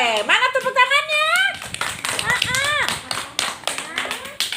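Children clapping hands in an Islamic Quran recitation class, several short bursts of claps mixed with loud sung and spoken voices of a teacher and kids.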